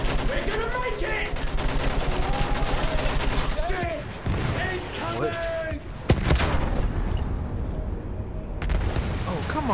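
Battlefield 1 campaign gunfire, a WWI tank battle, with a dense, continuous fusillade of shots and blasts under shouted voices and game speech, a sharp loud crack standing out near the middle.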